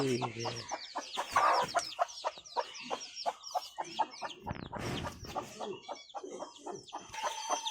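Chickens cluck repeatedly in a home yard, a busy run of short, choppy calls from several birds at close to moderate distance, with no talk.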